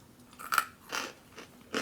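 Freeze-dried marshmallow gets bitten and chewed up close, giving a few quiet, brittle crunches spaced unevenly over a couple of seconds.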